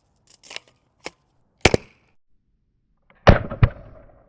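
An airsoft shell-loaded launcher fires in short sharp bursts: a few small pops, then two pairs of loud cracking reports, each quickly decaying, with no voices.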